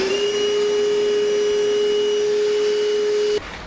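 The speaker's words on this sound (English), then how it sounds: "This is our time to grab our Milwaukee M18 shop vac. Once I turn it on," A Milwaukee M18 shop vac runs steadily with a loud, close motor whine and a strong tonal hum, then suddenly drops off near the end.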